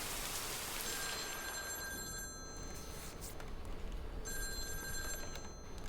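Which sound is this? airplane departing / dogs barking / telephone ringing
telephone ringing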